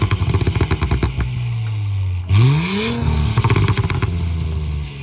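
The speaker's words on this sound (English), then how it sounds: "I tell y'all this exhaust system is mean" Close, loud valved catback exhaust on a B9 Audi S5 crackles and pops at idle, then a sharp rev rises in pitch before settling back into a choppy, burbling rumble.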